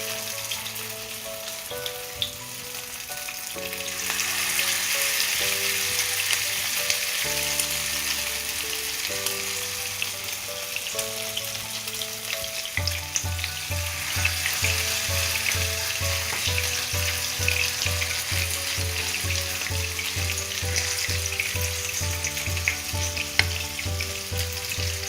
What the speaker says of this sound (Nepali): अब तेल तातेपछि अब म यसमा राख्दैछु आलुको मिक्सचर।